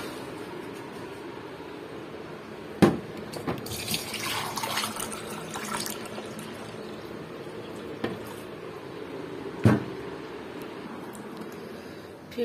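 Water is poured into a household water filter in a home kitchen, a gushing splash swelling for a few seconds, with sharp clunks of the container before and after against a quiet room.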